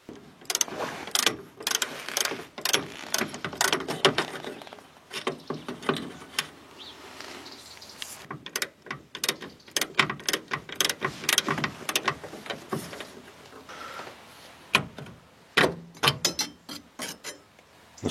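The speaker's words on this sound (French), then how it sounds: "il nous reste à enlever deux écrous ici qui sont derrière, au niveau du tableau de bord. Apparemment une clé tube en 14," A 14 mm socket wrench ratchets off nuts behind the dashboard of a Citroën Traction to free the steering column, with rapid irregular clicking bursts close up, separated by short pauses and handling knocks.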